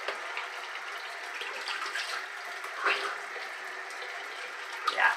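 Tap water runs steadily into a sink for rinsing off after a shave, a faint, close hiss with a few splashes from hands under the stream.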